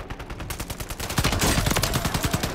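Sustained automatic gunfire rattles through a Resurgence match in a video game, a fast, evenly spaced string of loud shots that grows heavier and denser partway through.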